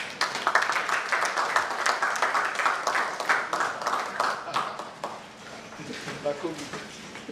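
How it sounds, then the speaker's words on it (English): Dense applause from a tech forum audience, many hands clapping steadily, fading out toward the end as a voice starts speaking. "let's give CFA a big round of applause"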